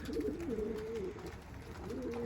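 Soft, low pigeon coos repeat in a steady rolling pattern, fairly close, with a brief pause before the cooing starts again.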